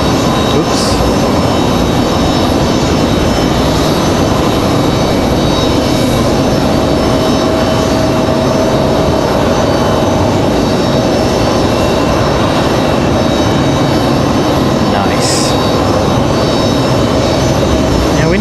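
An Airbus A220 jet airliner at Raleigh-Durham airport, with a loud, continuous broadband engine roar that holds steady throughout.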